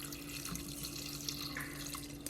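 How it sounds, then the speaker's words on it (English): Water poured into an Instant Pot while making Haitian bouillon, a steady close splashing and trickling stream running continuously without talk. "And then I'm going to add 4 cups of water in here."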